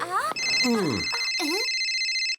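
A cartoon telephone rings with a bright, steady electronic trill that runs through most of the moment, while animated voices with sliding pitch talk over the start of it.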